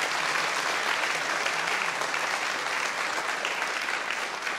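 Audience applause fills the room, dense, steady and close, lasting several seconds without a break.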